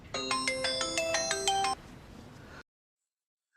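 A bright electronic ringtone plays a quick repeating melody of chiming tones, then cuts off into silence.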